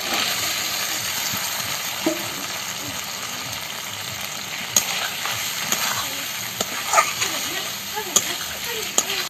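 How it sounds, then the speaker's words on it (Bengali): Ivy gourd and potato sautéing with spices in a pan, giving a steady crackling sizzle with occasional scraping clicks from stirring, close and moderately loud throughout. "মশলার সঙ্গে কুদিরটাও একটু কষে নিয়েছি"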